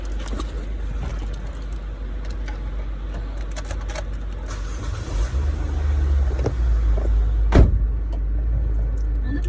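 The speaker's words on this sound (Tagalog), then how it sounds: "Start muna tayo ng sasakyan." A car engine starts up, a low steady rumble that thickens and grows louder midway, followed by a few faint clicks and knocks inside the vehicle.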